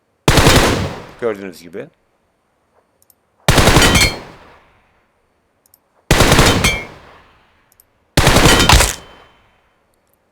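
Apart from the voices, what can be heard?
automatic gunfire in the video game PUBG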